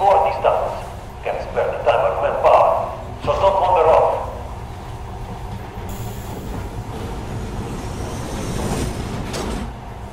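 A subway train rumbles and clatters along the rails, with people talking over it early on and a high screech of wheels later.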